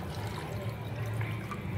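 Water poured from a measured glass into a pot of chicken biryani, a steady low splashing pour heard close and continuous for the short stretch.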